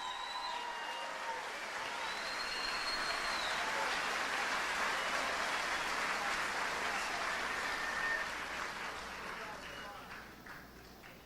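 A congregation in church applauds in a long, steady roar of clapping that holds strong and then gradually thins out near the end.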